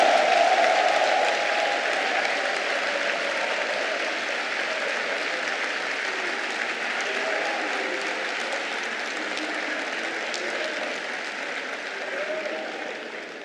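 Sustained cheering and applause from a large crowd at a political party rally in Yamoussoukro, a dense steady roar of clapping and voices that holds throughout and tapers slightly at the end.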